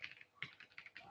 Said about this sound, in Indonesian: tekan F5 pada komputer atau keyboard.